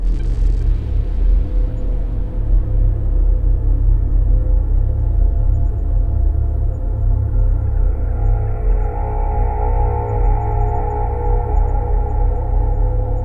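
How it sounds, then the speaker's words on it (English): A low, steady electronic hum from the game Five Nights at Candy's 2 drones throughout, deep and rumbling, with a faint tonal layer swelling in partway through. "play a soft humming noise that sounds like this"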